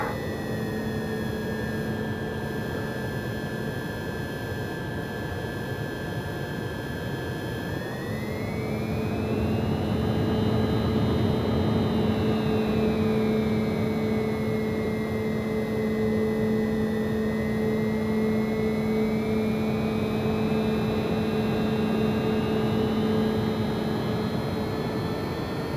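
An airplane's engines roar during takeoff in a Malaysian gameplay session, a steady whooshing drone with a rising and falling whine that swells midway and holds for the rest of the clip.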